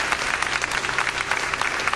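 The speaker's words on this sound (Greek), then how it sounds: "Ένα χειροκρότημα βρε παιδιά" A live audience applauding at a show, a dense, steady burst of clapping from many hands, fairly close and loud.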